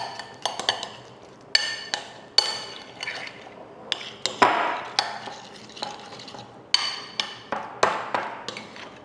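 Cream cheese and a tablespoon of butter being mixed together in a bowl, with irregular scraping and clacking of a utensil against the bowl, close and clear with short pauses between bursts.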